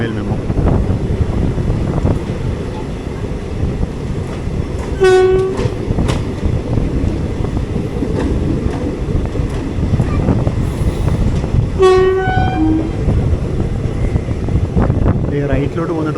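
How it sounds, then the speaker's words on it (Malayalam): A Western Railway MEMU on the Vasai Road–Panvel line runs close by, its horn sounding twice amid a loud continuous rumble of wheels and heavy wind buffeting, with voices talking over the din. "വെസ്റ്റേൺ റെയിൽവേയുടെ മെമോ ആണ്. Vasai road Panvel memo."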